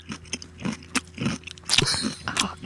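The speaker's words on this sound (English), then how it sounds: "Here's our Mason crunch intermission." Someone crunches and chews raw carrots close up, with a run of uneven, wet bites and mastication noises and brief pauses between chews.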